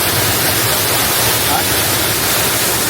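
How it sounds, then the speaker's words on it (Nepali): A waterfall in a forest in Japan roars as a steady, dense rush of falling water, constant and loud for the whole stretch with no pauses. "यही हो ल जङ्गलको बिचमा झरना"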